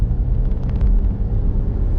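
A front-wheel-drive Volkswagen Golf GTI in its sport setting gives a deep, steady engine rumble from close by, even and unbroken for two seconds, smooth and not especially throaty.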